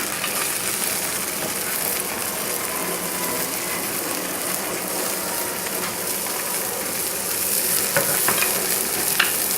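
Vegetables sizzle steadily in a hot pan while veal is cooked, a dense continuous frying hiss with occasional stirring scrapes and clinks, close and fairly loud throughout with no talking.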